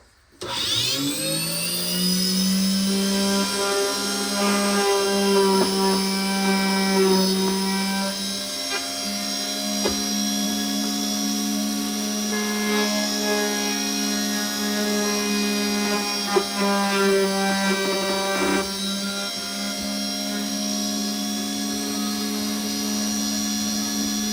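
A Silca Gymkanna 303 bicycle tool cuts a single pass, giving a loud, steady, high-pitched mechanical whine that runs unbroken for about twenty-four seconds with slight wavering, no voices.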